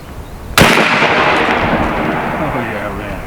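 An AEA Zeus .72 cal air rifle fires one loud, sharp shot up close, followed by a long, slowly fading ringing tail.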